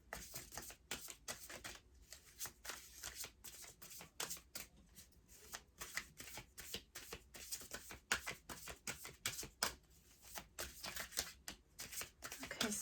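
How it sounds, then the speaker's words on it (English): Rapid riffle shuffling of a deck of cards, a dense run of crisp flutters and snaps repeating steadily and up close, with no talking. "Let's give this a quick little shuffle."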